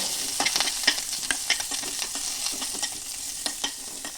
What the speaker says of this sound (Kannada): ಅದಕ್ಕೆ ಅರಿಶಿನ ಲಾಯ್ಕಲ್ಲಿ ಹುರಿ ಹಾಕಿದ್ರೆ